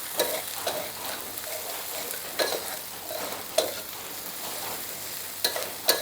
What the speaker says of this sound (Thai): เราต้องผัดให้หอมก่อนนะคะ